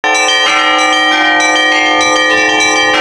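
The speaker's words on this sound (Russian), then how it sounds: "Сегодня под колокольный звон." Bells of the Nikitskaya church in Vladimir ring loudly and close with bright, sustained metallic tones, several strikes overlapping in a continuous peal with no talking.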